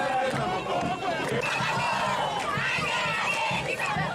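Jubilant crowd packed around the arriving Tourism minister and his wife, many voices shouting and chattering at once in a loud, continuous outdoor hubbub, with scattered cheers and a few children's cries.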